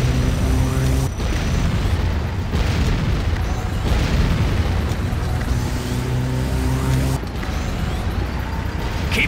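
Large explosion of a Nod structure in the game Renegade, a loud continuous rumbling blast with deep booming low end that carries through the clip, dipping briefly and swelling again, under game announcer voice lines.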